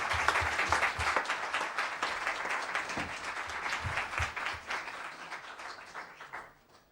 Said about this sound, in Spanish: ahora les pido un fuerte aplauso para recibir al protagonista